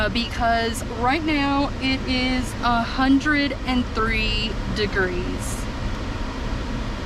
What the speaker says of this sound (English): That is my air conditioner running full blast